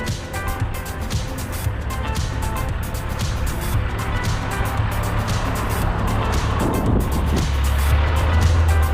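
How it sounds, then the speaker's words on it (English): A loaded coal truck rolls past on a road in rural autumn Virginia, its engine and tire roar building steadily and loudest near the end, heard over constant road noise. "Ah, the elusive coal truck."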